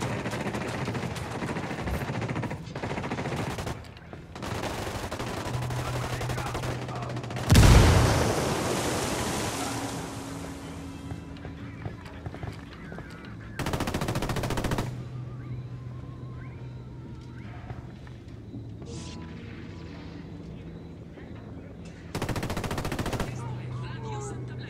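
Automatic gunfire from a video game firefight in Ghost Recon Wildlands, aimed at cartel forces, with bursts that rise and fall over a steady ambient bed, one heavy close volley standing out among lighter distant shots.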